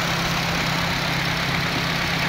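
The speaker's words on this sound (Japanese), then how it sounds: "はい、エンジンかけてみました。" A Honda Civic Type R Euro (FN2) engine with a Fujitsubo muffler idles with a steady low rumble and faint hiss, constant throughout with no voices.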